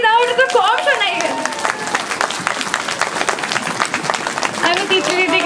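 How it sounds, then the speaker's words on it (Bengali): A crowd applauds loudly after a stage play, a burst of sharp, closely packed claps rising in the middle; a voice speaks briefly at the start and again as the clapping tails off. "একটু জোরে হাততালি বাজিয়ে দাও"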